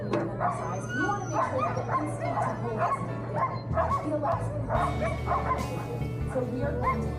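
Alaskan Husky sled dogs near Fairbanks, Alaska bark, yip and whimper in a steady overlapping chorus close by, with people talking over the noise.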